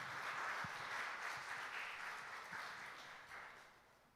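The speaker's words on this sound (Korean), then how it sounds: "우리 하나님께 영광의 박수를 드리겠습니다." Congregation applause at a Sunday youth worship service in a Korean church, a steady wash of many hands clapping that fills the room for several seconds, then slowly thins and fades.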